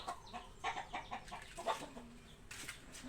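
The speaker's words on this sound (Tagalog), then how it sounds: "May manok." Chickens clucking in short, irregular bursts at close range on a rural Filipino property, the calls overlapping and fairly loud against a quiet background with no talk.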